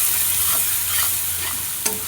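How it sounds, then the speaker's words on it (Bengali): Kashmiri chilli powder and turmeric powder sizzle steadily as the spices are sautéed in hot oil, with soft stirring scrapes and a sharp utensil knock near the end. "এবারে দিয়ে দেবো কাশ্মীরি লঙ্কার গুঁড়ো রঙের জন্য, আর দেবো হলুদের গুঁড়ো। সমস্ত কিছু আবার ভালো করে কষিয়ে নেব।"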